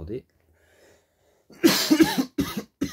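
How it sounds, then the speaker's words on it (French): A short burst of harsh coughing, three or four rough hacks in quick succession after a quiet pause, close to the microphone. "donc je tousse un petit peu"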